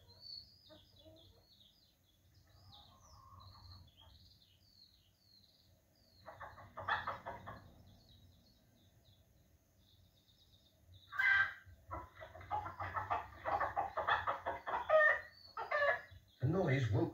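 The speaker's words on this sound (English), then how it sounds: "But Mrs. Thompson's hens were wide awake." Hens cluck and squawk in scattered bursts, quiet at first and growing busier and louder toward the end, with faint bird calls in the background.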